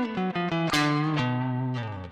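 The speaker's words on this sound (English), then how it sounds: "what your amplifier sounds like without a speaker" An electric guitar through a Kemper direct amp profile, Atomic Space Tone, with no cabinet, giving a bright, buzzy, distorted tone: a few quick picked notes, then a harsh chord ringing out and a final strum.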